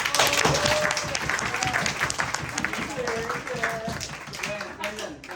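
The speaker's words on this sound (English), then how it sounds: "Give her a big applause, please." Audience applause after a Buddhist debate, honoring the winner: sustained clapping from a small group runs throughout at moderate level, with voices calling out and chatter mixed in over it.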